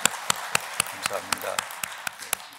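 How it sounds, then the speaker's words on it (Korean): A church congregation claps in praise, sharp irregular hand claps repeating steadily for a couple of seconds, moderately close, with a voice speaking briefly over them. "우리 하나님께 영광의 박수 올리겠습니다"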